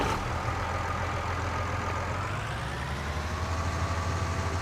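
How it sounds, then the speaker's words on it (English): A tractor engine in Farming Simulator 19 idles and hums steadily, a low continuous drone with a faint rising tone and no talk over it. "let's get in the tractor and have a little ride round"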